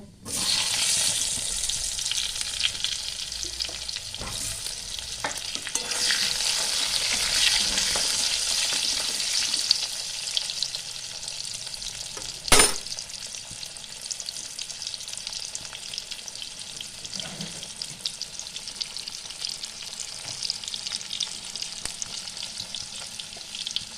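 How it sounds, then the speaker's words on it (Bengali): Potato pieces fry in oil with bay leaves, dried chilli and cumin, giving a loud, continuous sizzle that eases slightly later on, with one sharp clatter midway and a brief watery splash; no talking. "এবার আমি পিস করে রাখা আলুগুলো ভেজে নেব।"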